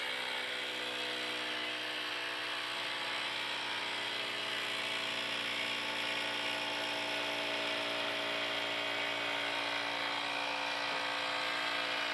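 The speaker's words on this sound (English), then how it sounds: "This autoclave, you don't have to hook up with the compressor, it's built in." A steady, even mechanical whir of a phone-screen refurbishing autoclave's built-in compressor running continuously at moderate volume, with no pauses.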